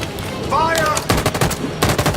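Rapid automatic gunfire bursts out in the video game Detroit: Become Human, dense rattling volleys of shots, loud and close, with a short tonal game sound early on.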